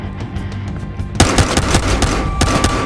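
Rapid machine-gun bursts and repeated gunshots in the Battlefield Hardline shooter game, loud and close, starting after a quieter stretch and continuing in dense, overlapping volleys.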